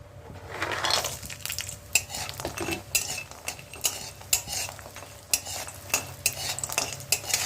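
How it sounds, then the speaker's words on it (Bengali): Bori, lentil dumplings, fry in hot mustard oil in a kadai. A soft sizzle runs under frequent sharp metallic clinks and scrapes of a spatula against the pan, close and uneven, with a low steady hum beneath. "এখন আমরা আগে বড়িটা ভেজে নেব।"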